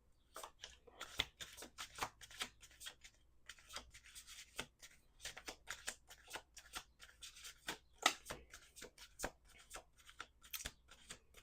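A deck of tarot cards being shuffled by hand, giving close, quiet bursts of papery riffling and rubbing in irregular rapid flurries with short pauses, and no voices.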